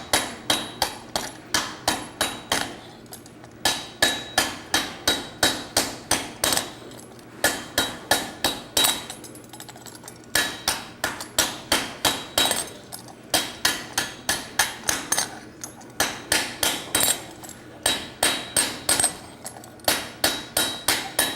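Steady hammer blows ring on metal worked in a swage block at a blacksmith conference, struck in quick rhythmic bursts of several strikes with short pauses between, loud and close with bright clanging tone.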